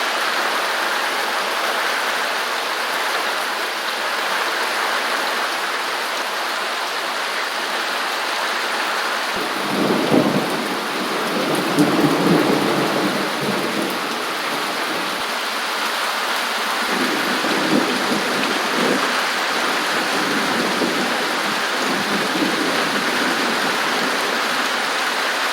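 Heavy rain pounds steadily on a zinc roof in rural Jamaica, a dense, continuous hiss, broken around the middle by low rumbles of thunder that come and go.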